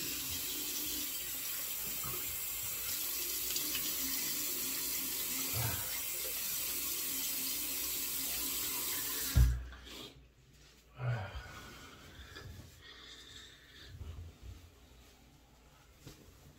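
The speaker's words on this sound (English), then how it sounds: "Let me rinse the alum off of here." Water from a bathroom tap runs steadily while an adjustable Yaqi Final Cut safety razor is rinsed under it, then the flow shuts off after about nine seconds, leaving faint clinks and handling noises.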